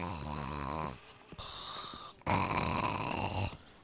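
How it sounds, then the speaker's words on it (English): Loud, raspy snoring fills the space in two long drawn-out breaths separated by a short quieter gap with faint rustling, close and harsh in tone. "Snoring like crazy."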